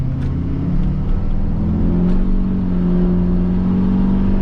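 Pickup truck fitted with custom traction bars accelerating, heard from inside as a loud, steady engine drone with rising tonal whine as the revs climb.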